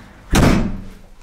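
A door is slammed hard, giving a single loud, close bang that trails off into a short rumble, with no voices over it.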